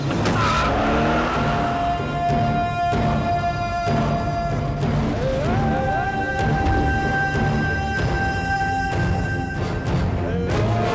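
A car pulls away with its tires skidding and squealing, loud and sustained under a dense bed of dramatic background music in an action scene.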